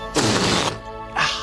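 A loud, buzzy demonstration of a fart, gas vibrating the narrow anal opening, comes as a raspy half-second blast, a short gap, then a second shorter burst.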